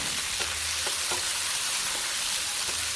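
Tomatoes sautéing in a pan for egg keema, a steady close sizzle and hiss throughout with a few faint stirring scrapes, no voices.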